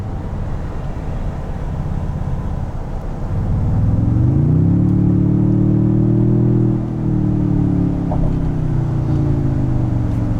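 Engine of a 2022 Toyota Tundra TRD Pro revving up with a deep, V8-like growl, starting as a low idle rumble and swelling into steady, loud acceleration around four seconds in, with no talking.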